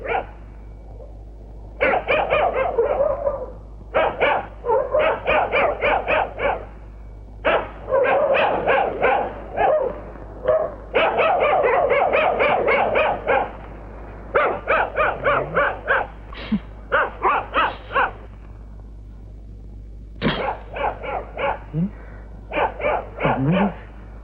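A dog barks in repeated bursts of sharp, close barks separated by short pauses, the pattern keeping up throughout with a steady low hum underneath.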